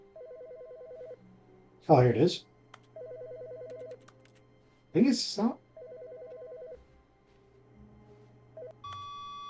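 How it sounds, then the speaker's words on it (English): An office telephone rings inside The Stanley Parable video game, with short repeated electronic ring bursts at moderate level, while someone speaks loudly in between. "someone's phone's ringing."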